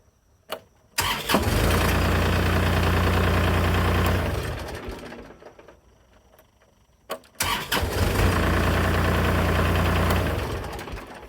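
A Kubota tractor engine cranks and starts after an ignition switch replacement. It runs loud and close for a few seconds, dies down, then starts again with a short crank and runs steadily.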